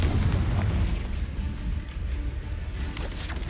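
Confringo spell explosions in Hogwarts Legacy inside a cave maze: deep booming blasts with heavy low rumble, loud and continuous, with crackling impacts layered on top.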